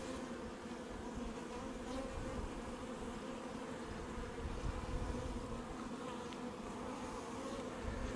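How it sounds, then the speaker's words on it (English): Honey bees fly around an open hive in a low, steady, continuous buzzing drone, faint and even throughout, with no talking. "Lots of bees in the air right now."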